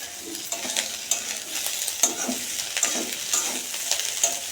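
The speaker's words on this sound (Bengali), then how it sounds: "পেঁয়াজ লঙ্কা দিয়ে আলু ভাজা এবার একটু পেঁয়াজ দিয়ে দিচ্ছি" Potatoes fry in a pan with onion and green chilli, a continuous close sizzle broken by repeated scraping stirs at an uneven rhythm, with no talking.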